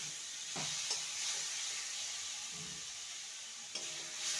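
Banana flower curry with potatoes stirred in a hot pan, a soft continuous sizzle and hiss with a few faint scraping strokes, close but quiet, no talking.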